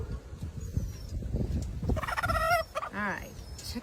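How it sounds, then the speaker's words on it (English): A backyard hen with a rose or pea comb gives a run of loud, close clucks and squawky calls in the second half, over a steady rumble of outdoor background noise. "here's the chicken of the day"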